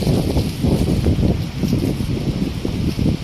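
Leaves on trees thrash and rustle in a strong autumn wind, a dense, continuous roar of gusting air and foliage close to the microphone, swelling and easing slightly without pause.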